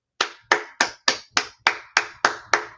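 Nine crisp, evenly spaced hand claps ring out one after another in a quiet room, each a sharp close-up slap with a short decay and no talk around them.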